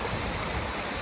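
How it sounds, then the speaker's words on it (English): Water pours over a small built dam on a farm stream, producing a steady, dense rushing roar that fills the whole moment without pause, close and fairly loud with no voices. "Now here we are on top of our waterfall here, where we've built our little dam"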